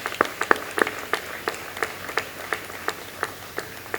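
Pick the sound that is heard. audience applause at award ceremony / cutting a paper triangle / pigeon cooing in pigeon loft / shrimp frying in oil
audience applause at award ceremony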